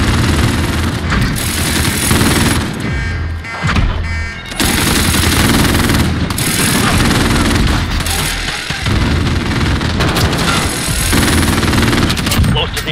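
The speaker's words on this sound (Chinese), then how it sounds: "一来有我的哨兵机枪清理步兵" A sentry machine gun fires at infantry in a video game, with loud rapid automatic bursts. The firing breaks off briefly twice, and a voice is heard amid the gunfire.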